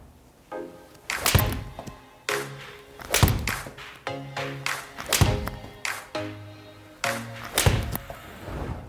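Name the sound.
golf shots hit with Titleist T100 iron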